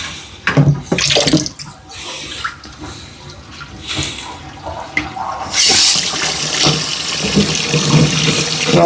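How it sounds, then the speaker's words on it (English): Hot water runs from the faucet of a laundry sink with a greasy, lint-clogged drain. Loose knocks and clatter come first, then the stream turns on and pours loudly and steadily to the end. "I like to have the hot water running"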